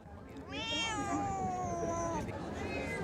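A cat at the 36th Annual Cat Show and Competition gives one long, loud, drawn-out meow lasting nearly two seconds, with a steady murmur of background noise behind it.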